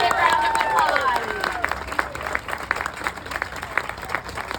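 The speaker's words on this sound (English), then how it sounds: "Give Heather a big round of applause" Audience applause fills a community meeting about Hurricane Helene updates, a sustained crowd clapping with brief voices on top, steady and fairly loud throughout.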